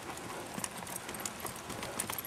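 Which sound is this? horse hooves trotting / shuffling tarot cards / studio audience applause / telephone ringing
horse hooves trotting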